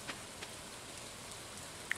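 Soft, steady rain in the Stardew Valley farming game, a faint continuous hiss with a few light drop ticks and a small chime-like blip near the end, no talking.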